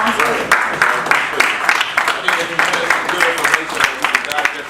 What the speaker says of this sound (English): I want to give both of the combatants in this particular debate a round of applause